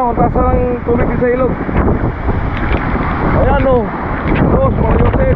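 Strong typhoon wind roars continuously beside a swelling river, loud buffeting gusts hitting the microphone while someone talks excitedly over it.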